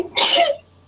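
A single sharp sneeze from a person in a classroom setting, close and loud, a brief burst of breathy noise that cuts off quickly into quiet.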